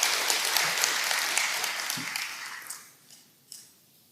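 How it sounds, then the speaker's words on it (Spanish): A church congregation breaks into applause for the women, a dense burst of clapping that starts strong and fades away over a few seconds. "Un aplauso para las mujeres."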